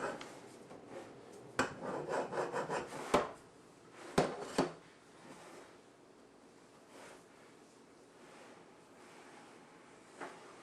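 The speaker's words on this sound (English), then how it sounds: "trim off the excess dough at the top of the pan by using your rolling pin" A rolling pin is pressed and rolled along the rim of a deep-dish pan to trim Chicago-style stuffed pizza dough, making rough rubbing scrapes and a few sharp knocks, then fading to quiet.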